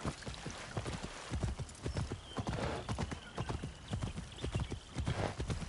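Horse hooves clip-clop at a steady trot in the video game Assassin's Creed Shadows, close and clear, with a brief whinny partway through.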